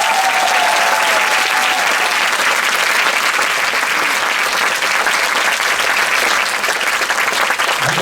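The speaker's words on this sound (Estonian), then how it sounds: "ootan kõikidele tantsijatele ülisuurt aplausi!" A concert audience gives dancers a big round of applause, loud, sustained clapping from a large crowd that fills the whole stretch without pause.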